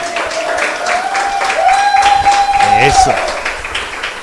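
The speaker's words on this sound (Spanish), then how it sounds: "¿Qué tal si ustedes le dan un aplauso al Señor porque estamos acá?" A church congregation applauds in a steady, dense wash of clapping from a crowd in a large room, with a sustained tone and voices sounding over it.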